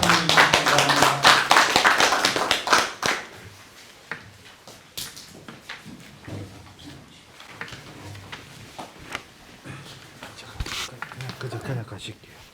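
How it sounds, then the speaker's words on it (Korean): An audience at a Korean academic conference applauds to welcome a speaker, a burst of clapping that fades within a few seconds, followed by scattered taps, shuffling and quiet talk nearby. "많은 박수로 김철수 원장님을 환영해 주시기 바랍니다"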